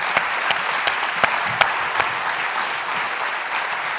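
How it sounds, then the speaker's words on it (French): A festival audience applauds after a debate, filling the room with continuous clapping from many people, with a few sharper individual claps standing out from the steady wash. "On peut vous applaudir."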